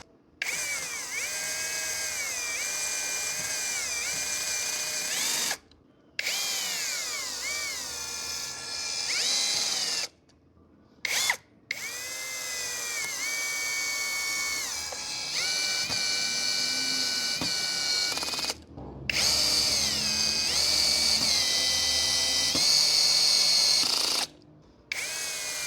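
A Makita DHP490Z brushless cordless drill in screwdriving mode at speed 1 and torque level 1 drives screws in repeated bursts. Each run whines with rising pitch, then clicks off, with short pauses between screws and no talk.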